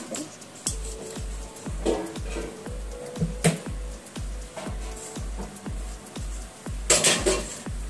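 Metal pots, a rice-straining colander and cutlery clatter in a home kitchen, with repeated sharp clinks and knocks in an uneven rhythm, loud and close, with no talk.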